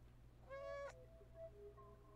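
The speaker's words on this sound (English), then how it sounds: "Aw, sad meows." A stray cat in the video game Stray gives one drawn-out, sad meow, then softer, thinner whimpering cries follow over a low steady background hum.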